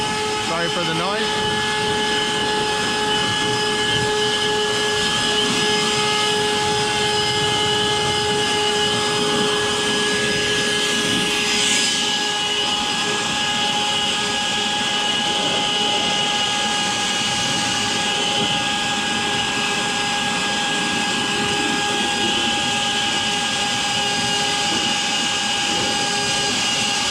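A loud air blower runs continuously while drying a car engine, a steady high whine with a constant roar underneath that persists for the whole stretch.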